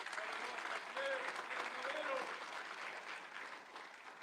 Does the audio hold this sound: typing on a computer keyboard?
no